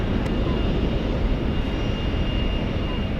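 Airliner powered by GE90 jet engines at San Francisco airport, a loud, steady broadband jet rush with a faint thin whine running through it.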